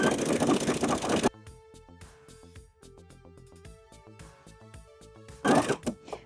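A domestic sewing machine stitches a knit sweater into leg warmers, running in a steady fast mechanical chatter for several seconds between bursts of handling noise at the start and end.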